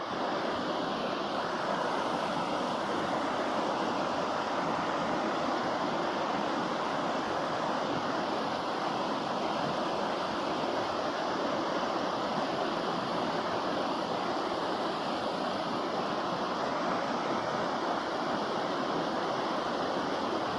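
A mountain creek runs at a slow, gentle pace, giving a steady, unbroken wash of water noise with no talking.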